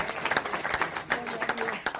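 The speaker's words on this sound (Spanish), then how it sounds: "Si usted puede aplaudir, hágalo, hágalo, hágalo, hágalo." Church congregation applauding during a Spanish-language evangelical sermon, a dense burst of many hands clapping in uneven rhythm, loud and close, with voices mixed into the crowd noise.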